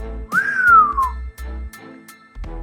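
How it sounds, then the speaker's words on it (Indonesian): A man whistles a single rising-then-falling note, clear and close, lasting under a second, followed by a few soft knocks and low rumbling background. "Pendekar kita keluarkan suara bersiul."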